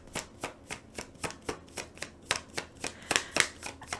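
A deck of tarot cards being shuffled by hand gives an evenly spaced series of crisp riffling snaps, close and clear, ending in a brief flurry of sharper card clicks.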